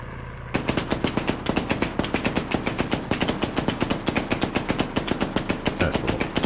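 Sustained rapid automatic gunfire from the Arma 3 video game, dozens of evenly spaced loud shots in a steady rhythm after a brief quieter start, with no talk over it.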